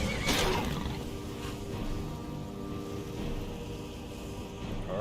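A horse in the video game Skyrim gives a sharp neigh at the start, followed by a lower, rumbling game soundscape with faint clatter, fairly loud and without talking.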